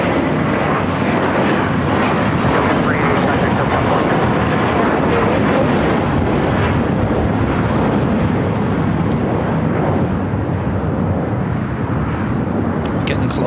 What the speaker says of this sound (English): Next takeoff here on the south side is United Airlines Flight 493, a brand new A321neo heading to Denver.